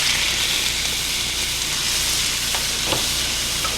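Loud, continuous sizzling of shaved steak frying in a very hot pan, a steady crackling hiss with a few faint clinks.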